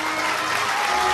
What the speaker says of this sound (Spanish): el aplauso para el campeón